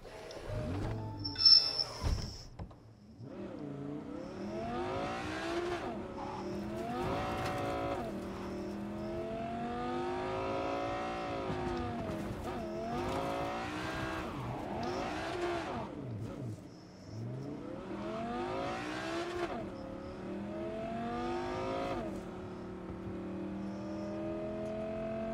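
Car driven through the streets of Cyberpunk 2077, its engine revving up and down in repeated surges with rising whine, loud and close throughout, with a brief clatter near the start.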